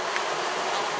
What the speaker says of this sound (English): let me try not to kill any bees here